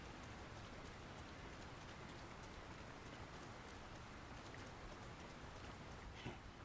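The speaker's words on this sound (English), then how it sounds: "Who could live in a town where it's always raining?" Steady rain falls over a town in the Lord of the Rings: War in the North video game, a constant soft hiss of drops at low volume with no other sounds.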